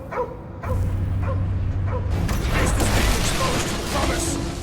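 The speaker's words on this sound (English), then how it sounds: "Get away from my dog!" Dog barking amid action in the Guardians of the Galaxy video game, with shouting voices, layered music and effects filling the mix; short yips and barks come early, then get buried under the busy combat soundscape.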